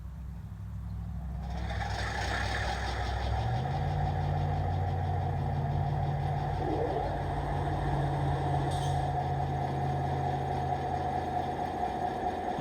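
A DCC-equipped N-scale model locomotive plays its engine sound effect, a steady diesel-style idle with low throbbing tones that rises in pitch after a few seconds and then holds, close and fairly loud.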